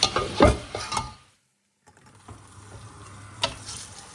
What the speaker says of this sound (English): I start to fry the chicken. I'm gonna fry it until it's brown on all sides